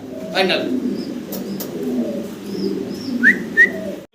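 A pair of big Andalusian-coloured Giant Homer pigeons coo softly with low, throaty calls beneath someone talking nearby, with a few faint chirps mixed in.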